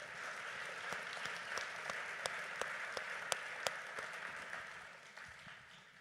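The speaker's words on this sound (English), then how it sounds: "please just join me in giving them all a round of applause" A conference audience at a human rights and democracy summit in Geneva gives sustained applause, a dense wash of many hands clapping with a few sharper claps standing out, fading slightly toward the end.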